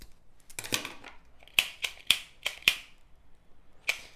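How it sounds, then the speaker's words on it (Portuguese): Scissors snipping off excess zipper on a tote bag, a series of sharp separate cuts in an irregular rhythm, close and crisp in a quiet room with no talking. "Aqui eu vou cortar o zíper, o excesso de zíper"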